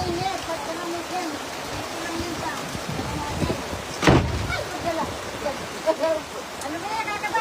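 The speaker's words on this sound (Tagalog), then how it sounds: "Umuulan talaga ng yelo." Hail falling outdoors in the Philippines, a steady dense patter and hiss with one sharper, louder burst of impacts midway, while people talk over it.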